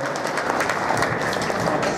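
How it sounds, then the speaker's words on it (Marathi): Audience applause welcoming a group of gurukul students at a devotional kirtan gathering, a dense, steady wash of clapping from many hands, loud and continuous throughout. "सर्वांनी टाळ्या वाजवून एकदा स्वागत करून त्यांना शुभेच्छा द्याव्यात."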